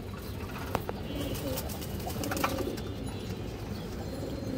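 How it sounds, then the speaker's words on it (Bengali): Pigeons coo in low, throaty murmurs against a constant background hum, with a couple of brief sharp clicks or wing sounds mixed in. "পাথর চোখের কবুতর"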